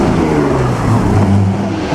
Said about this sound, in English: That was a Maserati.